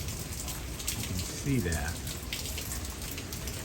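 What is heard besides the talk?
rain falling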